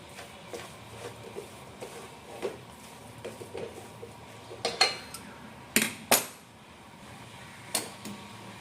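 A spoon mixes khichdi in a pot, making soft scraping with irregular metallic clinks and taps. The clinks grow sharper and louder toward the end, with no talking.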